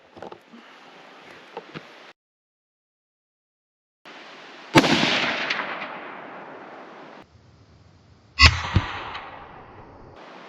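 Two sharp, loud .308 Winchester rifle shots firing 175-grain Nosler factory ammunition, each a sudden crack followed by a long booming decay, spaced several seconds apart outdoors, with quieter shuffling and handling noise between them.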